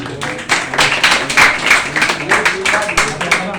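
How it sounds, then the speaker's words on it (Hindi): A crowd claps in a dense, uneven burst at a Hare Krishna Saturday program in Dahisar, holding steady for a few seconds, with some voices mixed in underneath. "ताली बजाइए।"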